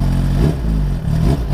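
Suzuki GSX-R1000R sportbike fitted with a Pipeworks decat exhaust, revving loudly and close up with a deep, throbbing engine note that rises and dips over a short burst, with no voices.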